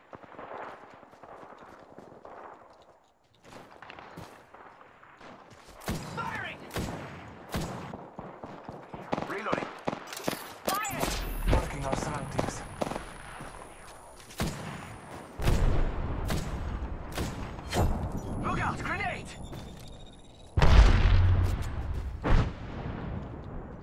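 Gunfire in an Apex Legends match, with bursts and single shots cracking repeatedly at irregular intervals and heavier, louder volleys later on, mixed with game sounds and brief callouts.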